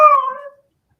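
A dog lets out a single short, falling howl that trails into a whimper, clear and close, then silence.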